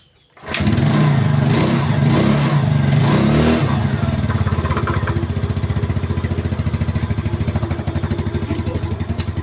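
A small motorcycle engine, fitted with a swapped-in CDI unit, cranks and fires up after a brief quiet moment, then runs loud and close with a rapid steady putter that settles into a fast idle.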